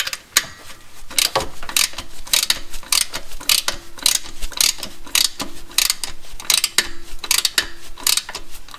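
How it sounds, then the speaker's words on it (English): A ratchet clicks steadily while tightening a 12mm bolt on the AC belt tensioner of a Hyundai Getz, close and sharp, in repeated bursts of rapid metallic clicks with brief pauses between strokes. "To do the AC belt, all you need to do is tighten this 12mm bolt here."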